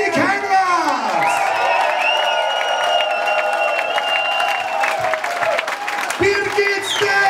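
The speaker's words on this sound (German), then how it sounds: "Meine Damen und Herren, einen großen Applaus." A crowd applauds and cheers steadily, with whoops and shouts over dense clapping throughout.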